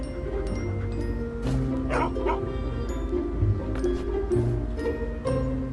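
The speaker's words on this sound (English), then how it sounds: "When he opened the door, out sprang 2 large but friendly dogs." Two large, friendly dogs bark and yip near and loud, with short woofs and whimpering mixed in and a voice talking under them.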